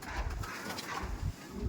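Racing pigeons in a loft coo, a low, soft, repeated throaty cooing that is close and continuous over a faint background.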